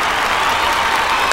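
Loud audience applause at the SIIMA awards ceremony, dense continuous clapping from a large crowd with no gaps.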